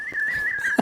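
A person whistles a single sustained, slightly wavering high tone in imitation of a bird, close and clear, ending with a short voiced sound.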